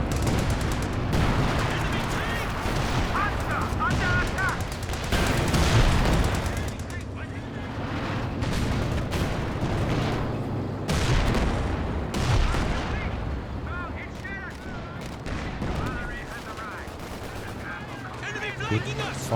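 Sustained battle gunfire from Company of Heroes 2, a World War II real-time strategy game, with dense rifle and machine-gun bursts and booming impacts throughout, loud and continuous, and a commentator talking over the top.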